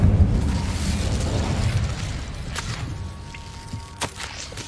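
A fiery Incendio spell bursts in the Hogwarts Legacy game, a loud explosive whoosh at the start that rumbles and crackles away, followed by a few sharp pops and clicks.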